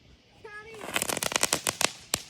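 Celebration fireworks go off close by, a quick string of sharp crackling bangs and pops that follows a brief whistle, loud and irregular.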